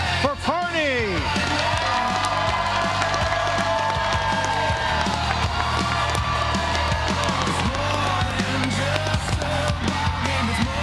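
A large crowd cheers, whoops and applauds for Parney at the 2026 RVA Sports Awards, a loud and continuous roar that fills the whole stretch with layered voices and clapping.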